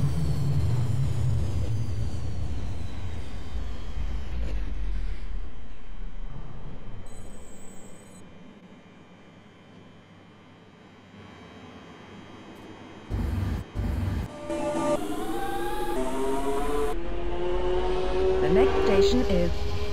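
Loud rumbling of a London Underground train in motion near Wembley Park, dipping briefly as it slows, then rising again with screeching wheel tones and a brief chime.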